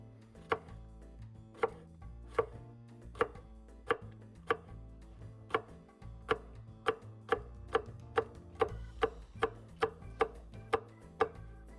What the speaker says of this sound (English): just cut it into a bunch of little rings